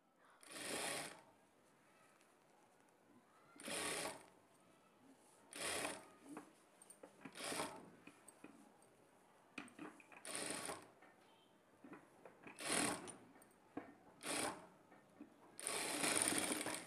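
Sewing machine stitching a blouse shoulder joint at a half-inch margin, heard as several short separate bursts of running stitches with quiet pauses between them, fairly close.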